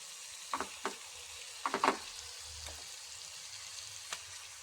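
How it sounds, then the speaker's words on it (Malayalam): Fish pieces cooking in a pan for a Kerala curry, a faint low sizzle with a few soft clinks and scrapes scattered through, quiet and close, without speech. "ഇനി നമുക്കിതിലേക്ക് മീൻ കഷ്ണങ്ങൾ എടുത്ത് ഇട്ട് കൊടുക്കാം"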